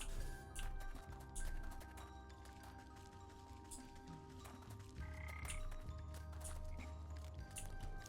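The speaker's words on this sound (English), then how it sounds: "There's so many frogs." Frogs croak at the bottom of a well in the video game Wytchwood, a dense chorus of repeated croaks and clicks over a steady background, with no voices.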